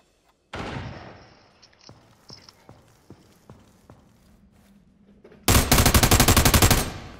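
Gunfire in the military shooter America's Army: Proving Grounds: a few sharp single shots and footsteps, then a loud rapid automatic burst close by near the end.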